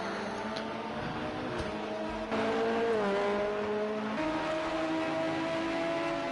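LMP2 prototype race cars in the racing game Project Cars 2 with a steady, continuous engine drone and high-pitched whine that shifts in pitch as the cars run past, with no talking.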